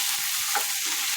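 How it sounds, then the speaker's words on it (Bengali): Food being stirred in a pan during cooking, with a loud, constant sizzle and a brief scrape of the stirring utensil, no talking. "দেখেন কত সুন্দর লাড়াচাড়া হচ্ছে"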